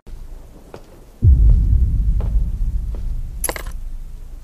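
In the horror game Slender Mansion, a short metallic jingle like dropped keys rings out briefly, clear and close, over a sudden low rumbling ambience with a few faint clicks.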